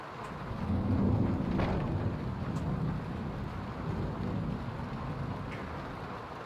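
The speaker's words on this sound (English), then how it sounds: "And it's raining again." Rain and thunder in Skyrim: steady rain hisses throughout while a deep thunder rumble swells early and slowly fades, with a few faint drips on top, no voices.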